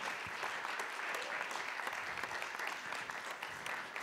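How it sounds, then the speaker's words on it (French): An audience at a French comedy festival conference applauds steadily, a dense, continuous wash of clapping that fills the hall for several seconds without a break. "On peut applaudir Thomas."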